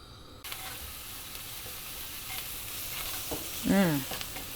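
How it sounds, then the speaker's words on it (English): Crushed garlic sizzles in hot oil in a pan, a steady close frying hiss that starts abruptly after a brief quiet moment, with a short tonal squeak near the end. "I love that smell of fresh crushed garlic heating up."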